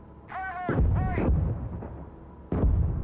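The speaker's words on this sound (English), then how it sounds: "We're going to call some artillery to give us a little support here." Artillery fire in a tank video game: a few heavy booming blasts with rumbling tails, loud and close, with whistling shell sounds before the impacts.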